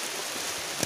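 Rain falls steadily during a mountain hike on Gunung Tandikek in West Sumatra, a dense continuous hiss with one brief sharper drop-like tap near the end, no voices.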